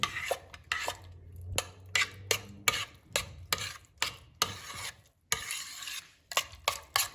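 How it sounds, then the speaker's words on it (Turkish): A spoon stirs a thick cooking cream mixture in a bowl, giving repeated rhythmic scrapes and clinks in short bursts with brief pauses between them, close and quiet, no voices. "Şimdi yavaş yavaş önce kaşıkla karıştırıyoruz."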